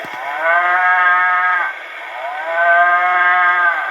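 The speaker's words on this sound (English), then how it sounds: "See, there's a cow." Two long, drawn-out cow moos on an old 1920s recording, loud and close, the second following a short breath-like gap, over a steady background hiss.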